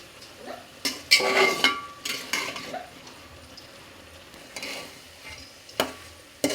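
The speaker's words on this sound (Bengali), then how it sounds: "এভাবে আমি একবার নেড়ে চেড়ে আমি সেদ্ধ করে নেব ডালার লাউটাকে" Bottle gourd with lentils is stirred in a pot as it boils, giving scattered scraping and clinking spoon-on-pot bursts over a soft bubbling hiss.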